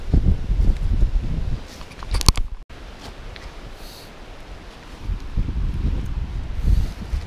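Wind blows by a creek during fall smallmouth fishing, heard as loud, gusty rumbling and microphone buffeting that rises at the start and end. There is a softer, rustling lull in the middle and a few sharp handling clicks.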